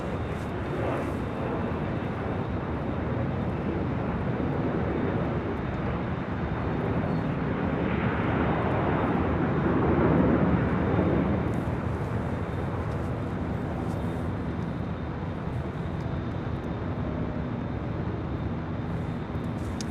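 American Airlines Boeing 737-800 jetliner departing LAX for Phoenix, a broad distant jet roar that swells gradually to a peak midway and then eases off, with no talking.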